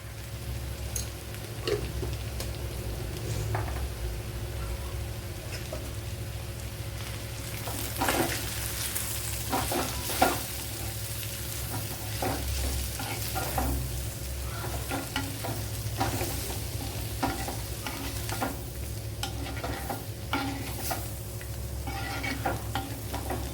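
Turmeric and fenugreek powder frying in oil for a carrot masala curry, a continuous close sizzle broken by repeated scraping strokes of a spoon stirring in the pan, with no voices.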